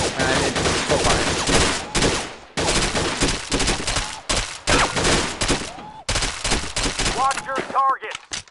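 Rapid bursts from a P90 submachine gun in a PS4 shooter, loud close automatic fire in several runs broken by short gaps, with game voices briefly heard.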